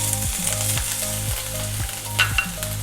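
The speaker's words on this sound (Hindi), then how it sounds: "तेज गरम कढ़ाई पे घी डालिए, ताकि हम इसको फटाफट सब इसमें अदरक लहसुन अच्छे से भून सकें।" Ginger sizzles in hot ghee in a wok, a steady loud frying hiss throughout, with repeated low scraping strokes of a spatula stirring and a couple of sharper clinks near the end.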